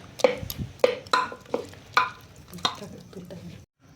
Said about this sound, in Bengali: একটু ভালো করে নাড়িয়ে টমেটোগুলোকে আর একটু এরকম গলিয়ে দেবো।